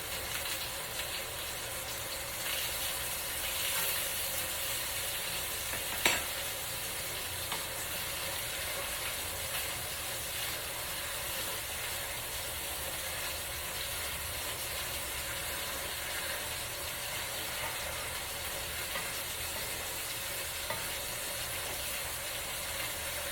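Smoked sausage, cabbage and potatoes sizzle in a cast iron skillet with a steady soft hiss throughout, broken by one sharp clank midway and a few faint pops, and no one talking.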